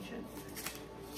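Affirmation cards shuffled by hand in a short burst of soft papery riffling, close and fairly quiet, with faint talking in the background.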